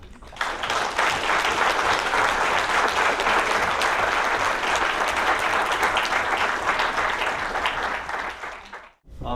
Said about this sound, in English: they both deserve a huge round of applause